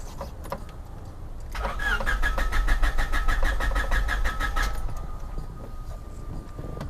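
A car engine is cranked for about three seconds with a rapid, even chugging from the starter, then stops without catching, cut off by a kill switch; close and loud with no talking.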